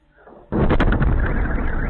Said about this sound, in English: we now hear another explosion going off, once again emanating from the Ingalls airfield